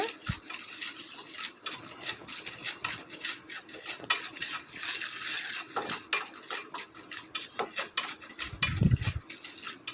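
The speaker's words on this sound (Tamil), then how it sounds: "ரவையை நல்லா மிதமான சூட்டில் வறுத்து எடுத்துக்கிறலாம்" Semolina (rava) dry-roasts in a pan over moderate heat, a quiet stretch of repeated scraping and light metallic clinks from a spoon stirring the grains, with one soft low thump near the end and no voices.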